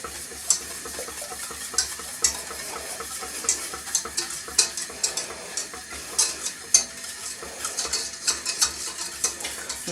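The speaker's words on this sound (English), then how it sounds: "I always start it off low when I melt the ingredients and then just turn it up a bit." Caramel cake bar ingredients stir and melt in a pan over low heat, a steady soft sizzle under repeated scraping and clinks of a utensil against the pan, close and continuous with no voices.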